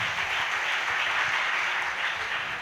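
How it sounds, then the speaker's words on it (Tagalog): A church congregation applauds together, a dense, steady wash of clapping that holds evenly throughout at close range. "Yun lang ang palakpak natin."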